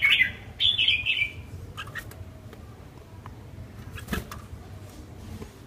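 Red-whiskered bulbul giving a few sharp, squawky calls close by at the start, followed by fainter scattered chirps and clicks over a low background hum.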